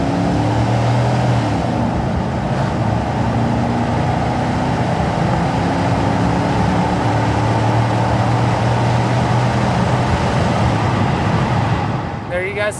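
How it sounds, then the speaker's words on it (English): A 1997 Chevrolet K1500 pickup with a 5.7 V8 engine, 83K miles, revving in place: a loud, steady engine drone whose pitch rises and falls a few times, heard close and on its own. "we'll go ahead and get in the throttle here, let y'all listen to it a little bit"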